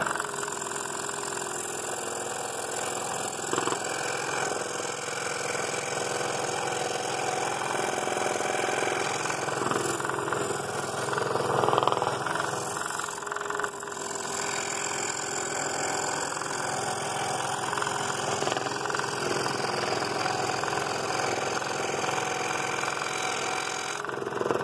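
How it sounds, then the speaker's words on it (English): Scroll saw running at high speed while cutting wood, a steady continuous mechanical buzz and rumble with a fairly loud, even level throughout and no talking. "This is cutting really smooth. I've got the saw at a pretty high speed."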